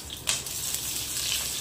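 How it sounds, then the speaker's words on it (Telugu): Green chilies hit hot tempering oil with a sharp crackling splutter that settles into a steady sizzle close by, with no one talking. "పచ్చిమిరపకాయలు వేసినప్పుడు కొంచెం దూరంగా ఉండండి. ఎందుకంటే అవి చిట్పట్లాడి కంటిలోకి తుల్లి ప్రమాదం."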